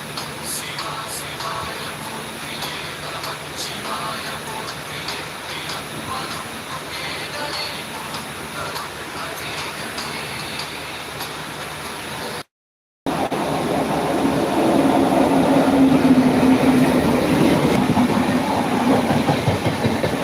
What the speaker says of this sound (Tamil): இந்த பக்கம் ஒரு எக்ஸ்பிரஸ் வருது பாருங்கள்